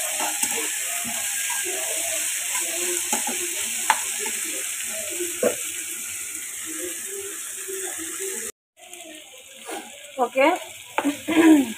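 Shrimp frying with greens in a pan, a steady loud sizzle with the scraping and clatter of a spatula stirring, then a sudden quieter stretch with more stirring clatter and brief talk.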